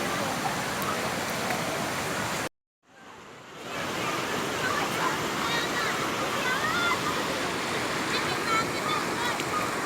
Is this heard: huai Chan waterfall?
yes